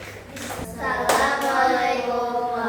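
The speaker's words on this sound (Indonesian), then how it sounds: "tepuk tangan untuk kelompok detektif Ember" Children and a teacher in an Indonesian primary school classroom clap their hands in applause for a student group, a burst of close, ragged clapping that swells and holds steady.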